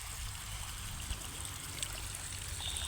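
Water leaking from a rain hose irrigation line fed by 2-inch PVC pipe and a 5 HP motor in a sugarcane field, a steady outdoor trickle and spray hiss running continuously at moderate level, with no voices.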